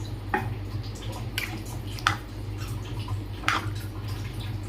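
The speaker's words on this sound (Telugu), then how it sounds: "ఒక గ్లాస్ వాటర్ వేసుకొని బాగా కలుపుకోవాలండి" Water stirs into a brinjal and tomato curry, with wet squelching and sloshing from a few spoon strokes over a low steady hum, close by and without talk.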